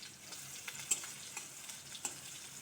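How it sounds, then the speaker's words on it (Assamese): Onion frying in hot oil makes a faint, steady sizzle with small crackles and pops scattered over it, and no one talks. "এয়া তেল গৰম হ'ল, এতিয়া পিঁয়াজ দিম।"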